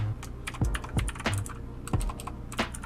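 Keys clatter on a computer keyboard as a folder name is typed into a command window while setting up a local Garry's Mod server, a quick uneven run of crisp close clicks with a few heavier thumps, no voices.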